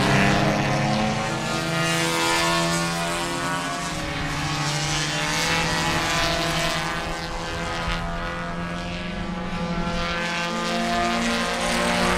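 Race cars on their pace lap at Sebring make a continuous, loud, droning engine roar from several cars, steady and overlapping throughout with slight pitch swells as they run together.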